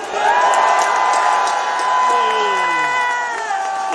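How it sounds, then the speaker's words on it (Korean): Outdoor crowd at a political speech in front of Busan Station cheering and applauding, a dense continuous roar of clapping and shouts with whistles over it, loud and steady throughout. "감사의 뜻으로 뜨거운 박수를 한번 보내주십시오"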